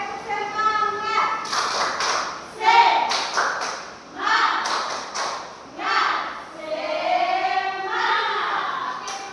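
A class of children doing a rhythmic cheer-clap in a classroom, chanting together in unison with sharp claps between the chanted phrases, lively and close, with a few loud thumps.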